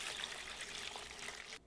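Three cups of water poured into a pot for a barbacoa broth with chiles and green onions, a steady close trickle and splash running nearly two seconds before it cuts off.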